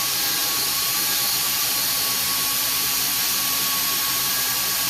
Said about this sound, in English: See the steam popping out now.